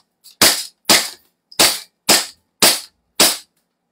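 Six sharp, loud toy cap gun shots from a pistol with a fixed barrel, fired close up in an evenly spaced sequence about half a second apart, with no talking.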